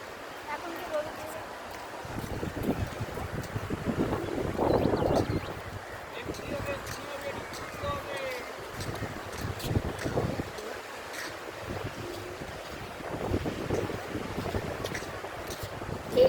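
Strong wind at Digha sea beach, where the tide comes in, buffets the microphone in gusty, rumbling surges over distant surf, with people talking nearby.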